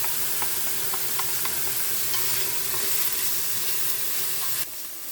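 Garlic frying in a cast-iron cocotte for a pork ratatouille, a steady, close broadband sizzle with faint scattered crackles and stirring ticks that drops slightly quieter near the end.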